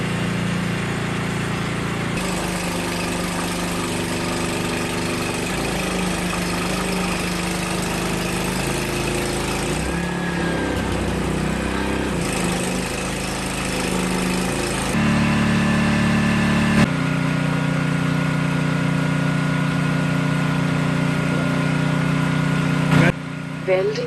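A small engine-driven welding generator, started by rope pull with choke, runs steadily at close range with a droning idle hum that shifts in pitch and loudness as engine speed changes, while a voice talks over it.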